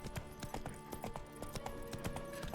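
A horse's hooves clip-clop in a steady, rhythmic walking beat in The Witcher 3: Wild Hunt, close and fairly quiet, with no speech over them.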